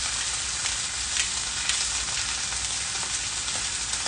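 Hot oil sizzling hard in a pan during home cooking, a loud, steady crackle with sharp spits and pops scattered throughout and no talking.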